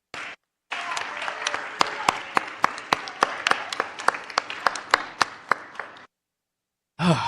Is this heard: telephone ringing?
no